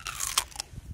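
A Jindo dog named Boksil bites into a red radish, giving a quick burst of close, crisp crunching and chewing over about a second.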